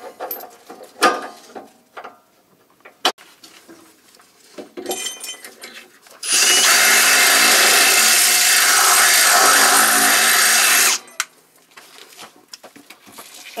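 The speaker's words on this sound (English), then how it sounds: "get a drill bit. We're gonna widen up this top hole." A drill bit bores out a bolt hole while fitting a rear coil-over on a 1979-2004 Mustang, a loud continuous grinding whir lasting several seconds between scattered clanks and handling noises.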